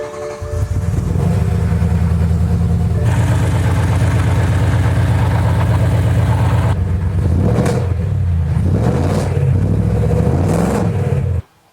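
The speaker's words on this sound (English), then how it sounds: "It almost feels like it's misfiring or something." A BMW E90 M3's S65 V8 idles rough and uneven close up, with a loud steady drone, then a stumbling, misfiring rhythm and a few ragged revs toward the end.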